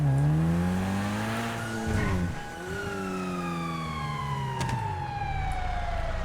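Video game police car siren wailing loudly with rising and falling sweeps, layered over a revving car engine, close and continuous with no talk.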